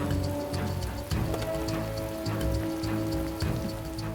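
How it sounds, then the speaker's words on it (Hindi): Heavy rain pours steadily, drops drumming densely on a surface, with a low continuous rumble underneath. "जोरों की बारिश हो रही थी।"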